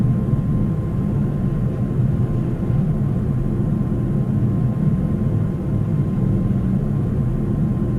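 Steady low droning rumble of an airplane engine winding down, a continuous loud hum with no distinct change, heard alone without voices.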